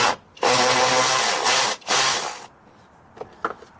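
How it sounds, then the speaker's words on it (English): A power ratchet spins on a crusty shock bolt of a 230,000-mile Jeep, with two loud buzzing runs separated by a short pause, then a few faint clicks and taps. "Here's our handy dandy power ratchet here."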